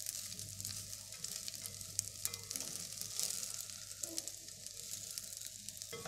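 Rice being sealed in a pan for arroz con pollo, a soft, even sizzle of frying grains with light stirring, fairly faint and continuous throughout.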